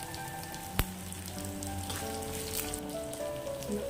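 Onions fry in a pan with a soft, continuous sizzle and crackle, fairly quiet and steady, with one sharp tap of a utensil early on and no talking.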